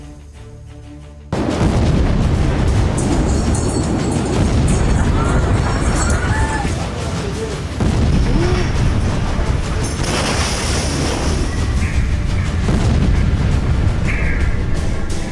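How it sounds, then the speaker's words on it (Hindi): News footage of the Beirut explosion carries loud, sustained blast noise and rumbling roar after a quieter opening second, with heavy booming texture and shifting debris-like crackle throughout. "एटम बम की तरह हुए इन धमाकों ने पूरी दुनिया को दहला दिया था।"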